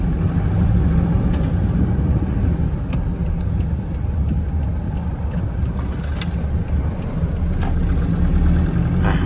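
A lifted 2006 Toyota Vigo turbo pickup under way, its engine a loud steady rumble with road noise heard from inside the cab throughout.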